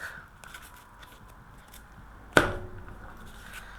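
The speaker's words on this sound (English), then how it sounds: "And then your opponent gets to cut the deck." A single quick snap as a Yu-Gi-Oh card deck is cut, one sharp crisp click midway through a quiet room with faint handling noise.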